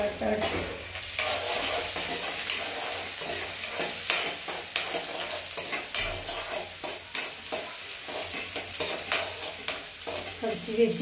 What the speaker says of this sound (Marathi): त्यानंतर त्याच्यामध्ये हे रवा टाकते, जेणेकरून पटदिशी उपमा होऊन जाईल।